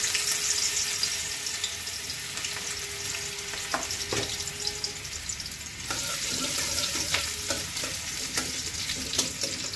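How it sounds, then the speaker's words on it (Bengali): Ginger fries in hot oil in a wok (kadai) with a continuous close sizzle and crackle, a few spatula scrapes and knocks cutting through partway, no voices present. "আদাটাকে ভালো করে ভাজবো।"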